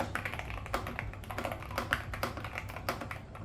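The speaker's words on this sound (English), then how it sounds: "It's also super satisfying to type on and it sounds and feels a bit like the P75." Fast, steady typing on a mechanical computer keyboard: crisp, clicky keystrokes in an even rhythm with a few heavier taps, close up and on their own without any voice.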